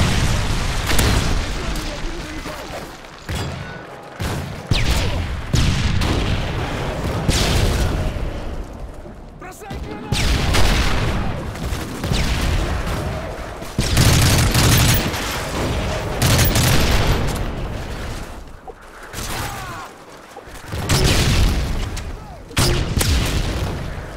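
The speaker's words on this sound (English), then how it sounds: "Friendly Predator missile inbound." Predator missile explosions and gunfire in Call of Duty: Modern Warfare 3 form a loud, nearly continuous barrage of booms and rapid shots, with brief gaps between heavy bursts.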